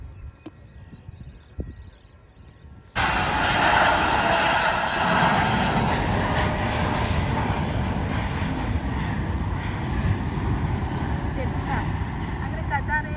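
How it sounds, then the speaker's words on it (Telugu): A Qatar Airways airliner's engines roar steadily on the runway, loud and sustained after a sudden onset, with quieter ambient noise and brief voices before it begins. "అక్కడ కతార్ ఎయిర్వేస్ కూడా పోతుంది."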